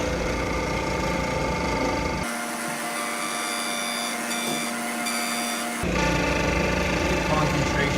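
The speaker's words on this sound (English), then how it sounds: "I have like one point of contact when I'm side milling a billiard ball" A milling machine side-mills a billiard ball, giving a steady whining cut with a dense mechanical hum that drops back to a lower motor drone partway through. The cut is continuous and close, with no talk over it.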